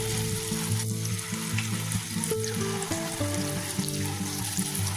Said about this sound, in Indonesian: langsung digoreng di minyak panas